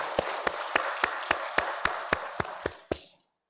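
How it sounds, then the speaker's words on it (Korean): A church congregation's applause at an early-morning service: about ten evenly spaced claps ringing out over a washy background, then stopping abruptly. "오늘도 우리에게 새날을 주신 하나님께 우리 감사와 영광 박수 같이 돌리겠습니다"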